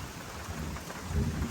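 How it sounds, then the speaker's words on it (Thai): Heavy rain and strong wind, a faint, steady wash of downpour and gusting noise with a low rumble swelling near the end, no one speaking. "ลมก็แรงมากๆเลยนะทุกคนดูครับ ฝนตกนะครับ"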